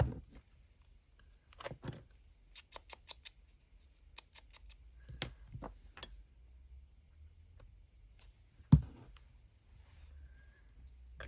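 Scissors cut through a piece of embossed, distressed paper ephemera in a quiet room, making soft crisp snips in short bursts with one louder tap near the end and no voices.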